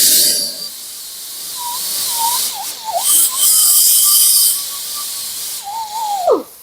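Roloc disc on a power tool grinding gasket material off engine metal, a high whining hiss with shifting pitch that rises and falls as pressure changes, close and loud.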